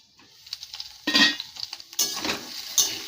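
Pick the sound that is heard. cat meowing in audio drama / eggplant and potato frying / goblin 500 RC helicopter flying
eggplant and potato frying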